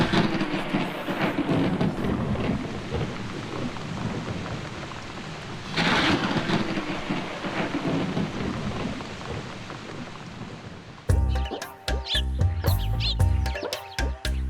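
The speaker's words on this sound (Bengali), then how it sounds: "বৃষ্টিটা আসতে দে, একটু" Steady heavy rain pours throughout with a deep rolling rumble of thunder swelling midway, then the scene shifts abruptly to a different bright mix near the end.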